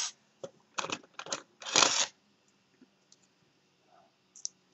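Scissors snip through crochet yarn in a quiet room, giving a few sharp, close clicking cuts in quick succession. A tiny faint click follows later.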